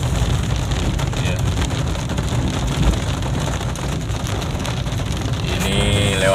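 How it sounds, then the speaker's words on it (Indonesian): Heavy rain pours steadily around a vehicle on an early morning trip near Pendopo field in Simeulue, Aceh, a dense continuous wash of noise with wind buffeting the microphone. "diguyur hujan lebat nih"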